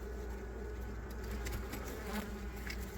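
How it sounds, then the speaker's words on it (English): Honeybees buzz inside a bathroom where a wild comb is being removed, a faint, continuous droning hum from a few remaining insects with small irregular rises, no voices present. "there's just a few bees left"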